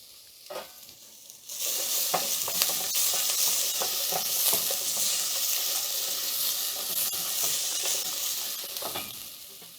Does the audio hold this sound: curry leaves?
yes